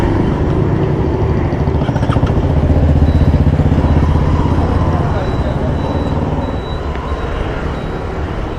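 A motorcycle on a short test ride rumbles with a steady, loud engine drone and road noise that swells slightly midway and then eases off.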